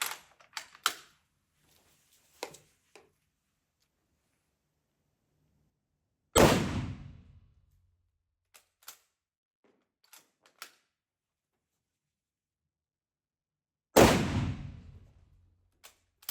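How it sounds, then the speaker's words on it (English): Two sharp, loud rifle shots from a Carl Gustaf M96 Mauser several seconds apart, each with a decaying boom, plus small handling clicks and taps between them. "What I'm going to do is fire 2 more rounds, again aiming for the bull"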